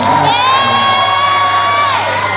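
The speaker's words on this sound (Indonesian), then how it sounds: "Tepuk tangan buat Bapak Herman" Audience at a school event in an Islamic junior high school cheers and whoops loudly for a teacher, children shouting over a crowd roar that holds steady throughout.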